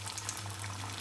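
Food frying in hot oil gives a steady, close crackling sizzle with no pauses over a low hum for about a second.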